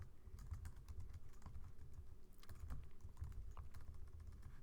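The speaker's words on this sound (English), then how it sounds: "Sorry, my typing it's not good." Keystrokes on a computer keyboard while writing Java code, a steady stream of quick clicks with brief pauses, fairly faint and close, with no talking.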